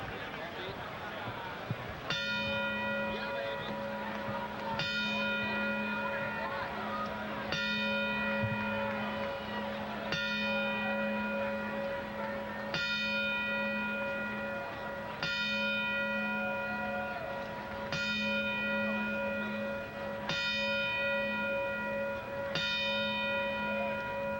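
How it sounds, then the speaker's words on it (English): A single bell at a professional boxing event is struck in a ceremonial ten-bell salute. Clear, evenly spaced rings come roughly every two and a half seconds, each ringing on, over a low murmur from the arena crowd. "we would like to play our traditional 10-bell salute in his memory."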